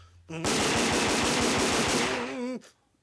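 Cartoon pistols firing blanks in a rapid, continuous volley of shots for about two seconds, loud and close, ending with a ringing tail and a brief voice.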